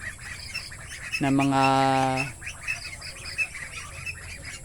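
Weak, sick ducklings peep in a short, high, rising cry lasting about a second, close by, amid a quiet backdrop of faint chirps and soft speech.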